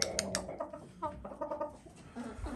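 A yellow-barred hen clucks close by in a series of short, clipped calls, with other chickens softly voicing in the background.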